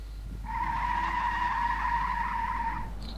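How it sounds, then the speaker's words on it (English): A sustained, high-pitched tire squeal from a 1970s front-wheel-drive American car in the BeamNG video game holds steady for about two and a half seconds over a low engine drone, then cuts off. "Very easy to break the tires loose with all that torque."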